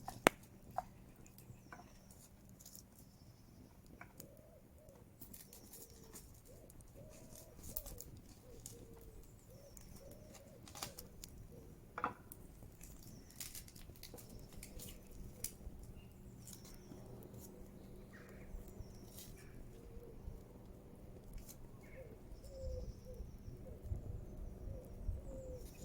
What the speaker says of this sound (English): listening to the birds on a beautiful spring day or summer's day